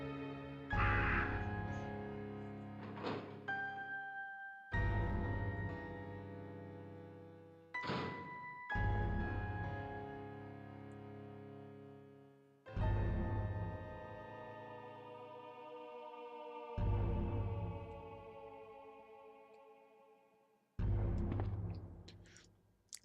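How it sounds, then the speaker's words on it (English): Crows cawing in the video game Resident Evil Survivor: a series of loud, harsh calls repeating at irregular intervals, each with a tonal ring, standing alone with no talk. "Those are the caws of crows."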